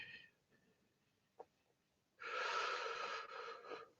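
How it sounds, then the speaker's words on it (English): Heavy, anxious breathing: faint quiet breaths and a brief sharp catch, then a loud, close, rasping exhale that lasts about a second and a half before trailing off. "I need to slow down breathing"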